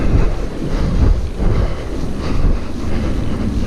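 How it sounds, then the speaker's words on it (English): Strong wind buffets the microphone outdoors in the Peak National Park with a steady, loud rumbling roar that gusts throughout, with no voices. "It's quite windy today"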